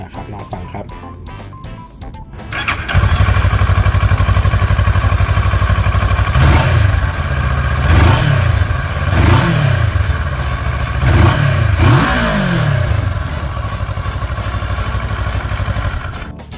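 A 2016 Kawasaki Versys 650 motorcycle with 12,000 km on it starts up and idles loudly up close, then gets several sharp throttle blips that rise and fall, before settling back to a steady idle.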